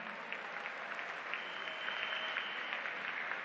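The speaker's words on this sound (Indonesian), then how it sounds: "Tepuk tangan untuk beliau." An audience at a live national address in Indonesia applauds steadily for a few seconds, a dense even clapping from a crowd at moderate distance, fairly quiet overall.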